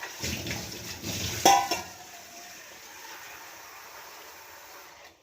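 Water is poured into a pot to be heated, making a brief splashing gush in the first two seconds, followed by quiet room tone.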